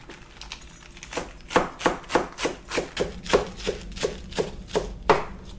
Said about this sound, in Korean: 양상추는 따로 곁들여 먹기 좋게 쓸 거예요. 얇게 채 썰어주시면 돼요.